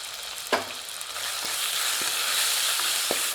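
Loud continuous sizzling of onions and tomato sautéing in a hot pan for radish moong dal kootu, with occasional soft scrapes of a spoon stirring.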